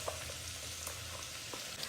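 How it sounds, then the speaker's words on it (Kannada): Radish pieces fry in a little oil in a pan for a buttermilk curry, giving a faint, steady sizzle with soft crackles throughout. "ಮೂಲಂಗಿನ ಸ್ವಲ್ಪ ಎಣ್ಣೆನಲ್ಲಿ ಫ್ರೈ ಮಾಡ್ಕೊಳ್ಳೋಣ."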